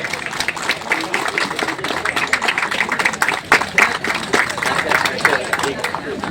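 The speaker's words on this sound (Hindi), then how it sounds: "तालियां होनी चाहिए दर्शकों की तरफ से।" Audience applause at a rainy monsoon marathon in Rangat, a steady patter of clapping from a crowd lasting throughout, with a voice over a loudspeaker talking across it.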